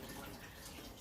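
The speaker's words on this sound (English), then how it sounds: "There's that lovely running water sound that you might have heard there." Bath water runs from a tap in a steady, faint hiss and splash, a continuous wash of sound with no voices.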